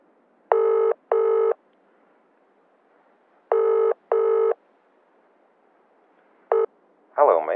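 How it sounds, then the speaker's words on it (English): A mobile phone plays a ringback tone: two pairs of short electronic beeps separated by a pause, then a brief start of a third, before a voice answers on the line. "I'll give him a buzz actually before we set off"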